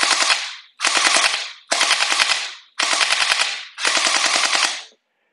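A gel blaster toy gun fires 6-7 mm gel balls in five loud, close full-auto bursts, each just under a second of rapid rattling shots, separated by short pauses.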